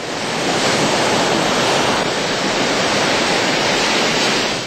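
Big surf pounds Shek O beach on Hong Kong Island's south side, red flags up: a loud, steady roar of breaking waves fills the whole stretch, with no voices.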